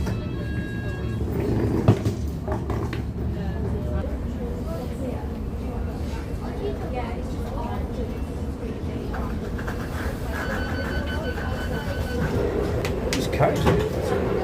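A London Underground tube train idles at a station near Marble Arch, a steady low rumble and hum with intermittent clanks and tonal whines, while a person talks over it.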